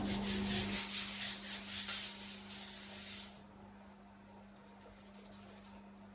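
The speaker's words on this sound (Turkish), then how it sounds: "Dikdörtgen borcam büyüklüğünde de açacağım milföylerimi." Frozen puff pastry sheets are rolled out to the size of a rectangular glass baking dish, giving a steady close rubbing and sanding sound that eases into softer, lighter strokes midway through, with a low steady hum underneath and no talk.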